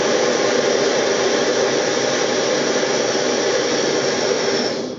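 Kovea camping stove burner on an LPG adapter with the valve opened wide, a loud continuous roaring hiss that holds steady for several seconds before easing off at the end.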